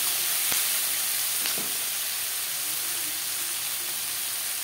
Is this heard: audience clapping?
no